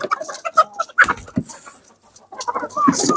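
Month-old black chicks peep in quick, high, scattered bursts close by, with brief rustling between calls.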